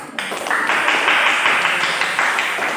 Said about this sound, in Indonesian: Nah, kita kasih tepuk tangan untuk pembuka.